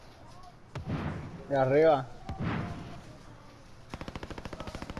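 Rapid automatic gunfire in the Warzone video game rattles out as a steady, evenly spaced burst near the end, following talk and scattered thuds earlier on.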